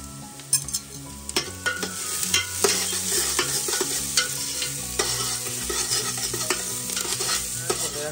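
Crushed ginger frying in hot oil for a chana dal tadka, giving a steady close sizzle with repeated stirring scrapes and clinks throughout, no talking.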